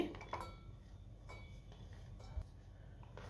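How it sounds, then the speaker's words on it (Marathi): Fresh coconut pieces are dropped into a mixer jar, giving a few faint, scattered clinks and light taps against quiet kitchen background. "मी मिक्सरचं भांडं घेतलंय त्यामध्ये ओलं खोबरं काढून घेते"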